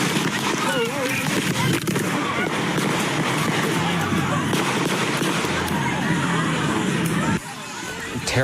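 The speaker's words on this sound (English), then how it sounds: "Terrifying moments as that gunfire rang out" Rapid gunfire bursts out at a crowded park cookout during a deadly mass shooting, sharp cracks over a constant babble of frightened voices and crowd noise, the din dropping briefly near the end.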